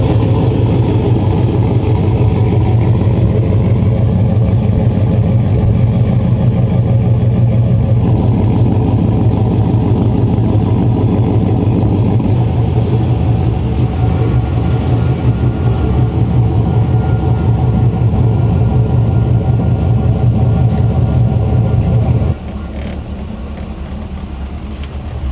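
A car engine runs steadily at idle through its exhaust, loud and close, a deep continuous rumble that drops noticeably quieter near the end, with no talking.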